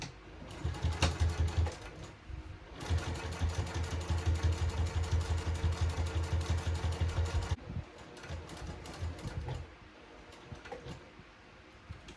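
A sewing machine topstitches around the edge of a tote bag with a non-stick needle at stitch length 4, running in a loud, steady rhythmic burst with a slower, softer run near the end.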